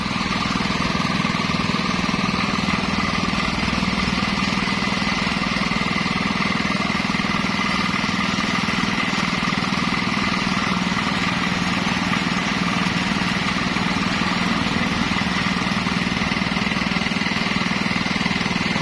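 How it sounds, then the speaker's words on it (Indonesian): A well drilling rig's engine drones loudly and continuously with a rough, rattling mechanical chatter, close and unchanging throughout. "Mari kita saksikan lagi pengeboran."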